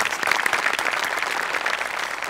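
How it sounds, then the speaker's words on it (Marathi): A live comedy show audience claps steadily and loudly, a dense, continuous burst of applause with no talking over it. "एकदा जोरदार टाळ्या त्यांच्यासाठी सुद्धा."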